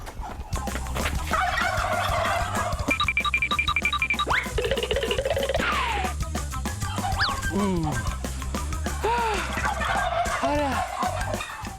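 Several turkeys gobble loudly and repeatedly close by, their warbling calls overlapping against a steady background hum.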